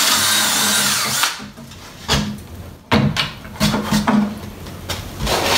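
A power drill drives a screw into a half-inch wooden panel for a barn owl nesting box, with loud close whirring bursts broken by short pauses and clunks of the workpiece shifting.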